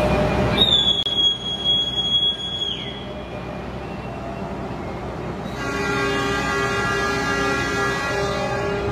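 KA Bima passenger train running on rails: steady rolling rumble with a high metallic wheel squeal rising and falling early, then sustained tonal whine from the wheels and carriage, no talk.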